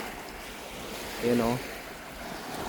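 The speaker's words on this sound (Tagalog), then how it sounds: "ganda ng dagat natin" Surf washes onto Boracay beach in a steady, breezy rush of waves, with wind buffeting the microphone and a brief voice speaking partway through.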